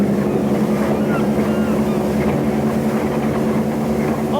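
An RNLI lifeboat engine revving up drones steadily and loudly, a constant low rumble with wind buffeting the microphone throughout.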